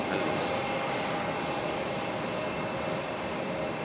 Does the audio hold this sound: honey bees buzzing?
no